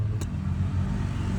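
A car moving along a rainy road, a steady low engine rumble that stays close and continuous throughout, no voices over it.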